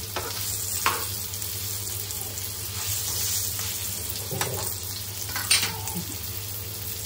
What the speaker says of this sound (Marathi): आता 1 मिनिट झालेलं आहे, आपण पलटून घेऊया पापलेट